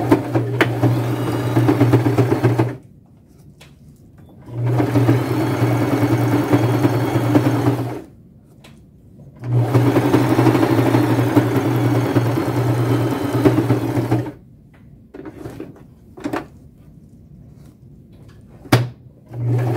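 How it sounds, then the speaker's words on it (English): A sewing machine double stitches a boho fringe bag in three long running bursts, a loud steady motor whir with rhythmic stitching, separated by quiet pauses with brief clicks and fabric handling. "I will double stitch it for durability on both sides."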